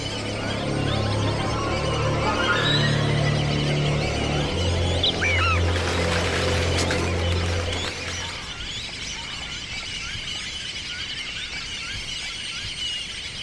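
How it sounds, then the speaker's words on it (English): Ducks call back and forth outdoors in a natural setting, a dense stretch of honks and squealing quacks that fades partway through into quieter ambient sound. "The messages that the ducks send back and forth are the ambient sound of nature."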